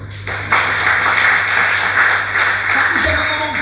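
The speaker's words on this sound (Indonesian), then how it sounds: "Tepuk tangannya dong." Audience applause at a motivational sermon by a pastor, a dense wash of clapping that swells in and holds steady throughout, fairly loud, with a low hum underneath and a voice cutting in near the end.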